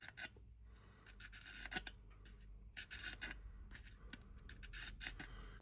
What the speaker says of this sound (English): See the burrs coming off.